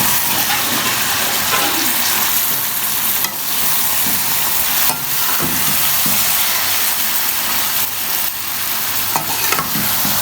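Crispy okra frying with onions in a pan gives a loud, continuous sizzle. Stirring scrapes and occasional spoon knocks rise above it, close up and with no voices.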